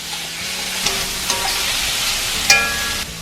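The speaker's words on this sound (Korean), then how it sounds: "예열된 냄비에 현미유를 적당히 두른 다음에 새송이 버섯, 다진 마늘, 당근, 양파, 소금을 넣고 중불에서 볶아주세요." King oyster mushrooms, minced garlic, carrot, onion and salt stir-fry over medium heat in rice bran oil in a preheated pot, a soft steady sizzle punctuated by several sharp clacks and scrapes of the utensil against the pot.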